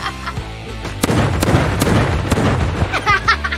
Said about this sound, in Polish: przebił moje balony